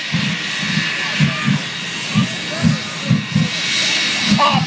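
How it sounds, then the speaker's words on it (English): At an air show, the Shockwave jet truck's jet engines roar with a hissing, steady blast broken by a series of regular, deep pulsing thumps, while an announcer's voice carries over the noise. "the incredible Shockwave Jet Truck."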